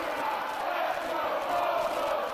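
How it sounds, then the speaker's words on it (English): Arena crowd at a televised wrestling match roars and chants continuously, a dense, steady wall of cheering voices with no clear breaks. "This crowd is split."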